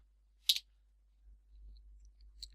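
Two crisp computer mouse clicks, one early and one near the end, with a faint patch of keyboard tapping between them; quiet and close, no talk.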